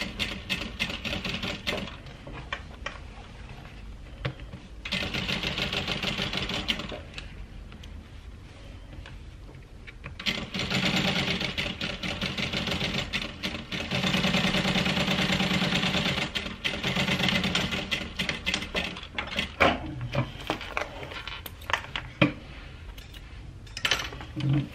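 Sewing machine top stitching a handbag runs in several sustained bursts with pauses between, a steady mechanical whir close by.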